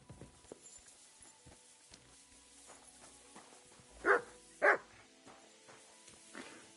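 A dog in the video game Kingdom Come Deliverance 2 gives two sharp, fairly close barks in quick succession, following quieter game ambience and soft footsteps.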